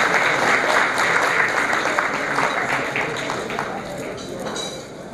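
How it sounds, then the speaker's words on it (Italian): Loud, sustained applause from a large audience at an Italian Canadian awards ceremony in Toronto, dense clapping filling the whole stretch and easing slightly toward the end. "How about a great round of applause to these two pillars in the language of the Italian Canadian people in Toronto?"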